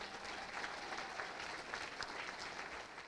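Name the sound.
applause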